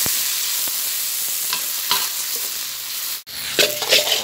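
Pork hisses and sizzles with garlic in a hot wok, a loud continuous fry broken by scraping stir strokes and a brief pause before the sizzle resumes, close up.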